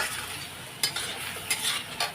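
Fish curry sautéing in a pan with salt, turmeric and Kashmiri chilli powder gives a steady sizzle. Stirring scrapes and several sharp utensil clanks cut through it.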